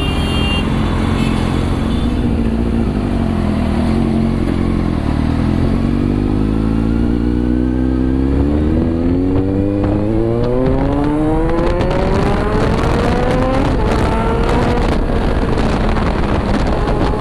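A Kawasaki Z900 motorcycle fitted with a loud SC Project exhaust revs hard, its engine note climbing steadily in pitch and holding a loud, rasping roar close to the microphone, with wind buffeting and no voices.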